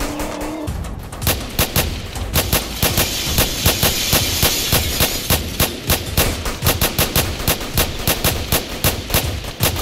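Rapid gunfire crackles in a Roblox hood roleplay game, with sharp shots fired in quick, irregular bursts that run almost continuously and loudly in the foreground.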